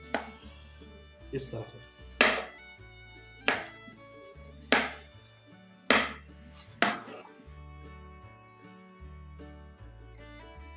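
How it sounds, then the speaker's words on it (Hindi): A knife chops potatoes into cubes on a board: about seven firm, evenly spaced thuds close by, under steady background music, with a brief spoken remark. "क्यूब्स की शक्ल में हम इसको काटेंगे।"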